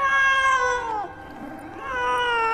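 A computer-generated cat in the 2003 film Catwoman gives loud, close drawn-out meows, one long wavering cry bending downward, a brief softer dip, then another rising meow, clear and alone with no talk.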